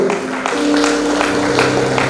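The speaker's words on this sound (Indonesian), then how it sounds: "Tepuk tangan Bapak Ibu" Guests at a Christian wedding ceremony clap together in a steady burst of applause, with sustained music tones underneath the clapping.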